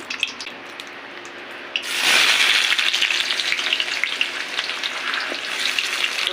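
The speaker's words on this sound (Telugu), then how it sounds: "ఇప్పుడు ఉల్లిగడ్డలు వేసుకుందాము." Onions tip into hot oil and the pan jumps from a soft hiss to a loud, steady close sizzle that carries on to the end.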